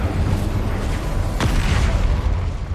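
A spell's shockwave explosion in Hogwarts Legacy, a loud, deep booming rumble with a sharp burst in the middle, surrounded by continuous low roaring game sound.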